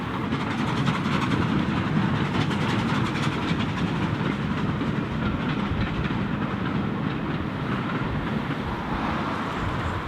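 Clan Line, a rebuilt Merchant Navy class steam locomotive, running past with a loud continuous roar and rapid rhythmic clatter of wheels on rails.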